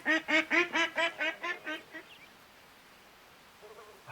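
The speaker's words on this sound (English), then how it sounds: "I don't know if that was like an alarm quack going out" A duck in the video game Way of the Hunter quacks about eight times in a quick, steady series, loud and near, then fades to quiet background.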